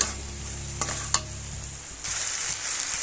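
Kochur loti, taro stolons, stir-fried in a spice paste in a pan, with a close hissing sizzle under a couple of sharp scrapes of the stirring utensil, the frying growing brighter near the end.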